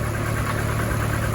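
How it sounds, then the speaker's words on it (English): A Mini engine with throttle bodies idles steadily at 1200 RPM, a low even rumble with a slight knock, close and continuous, with no voices. "Smoothly idling at 1200 RPM."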